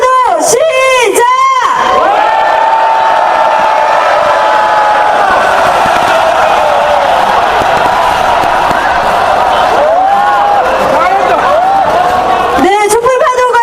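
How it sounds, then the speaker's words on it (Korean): Large street rally crowd in Korea shouting during a candlelight wave: a loud, sustained roar of cheering voices that swells and holds across the whole stretch, with an amplified voice over the din at the start and end. "함성과 촛불 파도 시작!"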